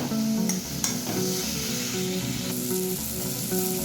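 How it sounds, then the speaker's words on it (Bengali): Fried potatoes stir-frying in oily spice masala give a loud, steady sizzle close up, with a few sharp spatula taps and stirring scrapes along with a faint tonal hum in the background. "আবারও একটু আলুটা দিয়ে কষিয়ে নেব।"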